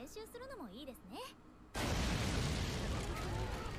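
A cannon fires in an anime battle episode, giving a sudden loud blast that follows a stretch of voices and leaves a long, dense rumbling roar.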